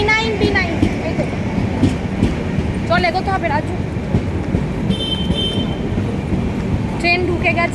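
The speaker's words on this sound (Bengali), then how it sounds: "ট্রেন ঢুকে গেছে" A passenger train pulls into a busy station platform, a continuous rumbling clatter of wheels and carriages filling the scene while people talk close by over it.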